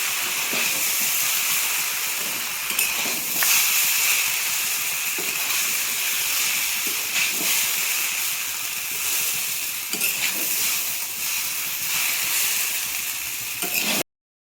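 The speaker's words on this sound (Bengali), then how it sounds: "এখানে সোয়া সস আর ভিনিগার দিয়ে চাউমিনটাকে এবার ভালোভাবে ফ্রাই করে নিতে হবে" Chowmein noodles stir-frying with soy sauce and vinegar in a hot pan, a steady loud sizzle and hiss with regular scraping stir strokes throughout, no talking.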